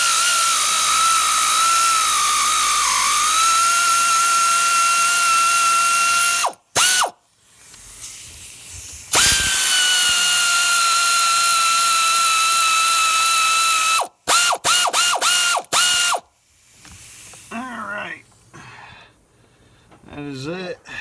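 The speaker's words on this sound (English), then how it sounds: "Got the socket on the air ratchet, and we're gonna go ahead and put that down in there like so, and we're gonna start reaming out the" Air ratchet driving a socket to ream out a blown-out spark plug hole on a Ford Triton 5.4 engine, giving several long loud runs of steady whirring with short bursts and gaps between, and talk heard between the runs.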